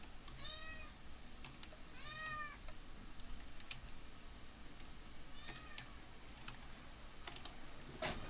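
A pet cat meows three separate times, each call clear and moderately close, with short pauses between them, over a steady low background hum and a few faint clicks.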